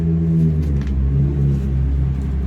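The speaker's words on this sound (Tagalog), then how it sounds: "Maingay ang sasakyan." A noisy car passes close by a home veranda, its steady low engine rumble filling the whole stretch at a fairly loud, even level with no talking.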